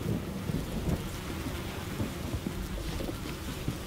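A thunderstorm from the indie horror game White Night: steady heavy rain pours over a low, continuous thunder rumble, loud and enveloping, with wind behind it and no voices.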